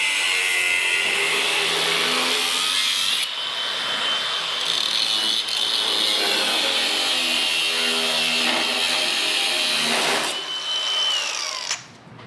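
Cutoff tool slicing into metal on a 6x6 truck frame, a loud, steady high-pitched grinding whine held close for about twelve seconds with slight pitch dips, then cutting out at the end, with no talk.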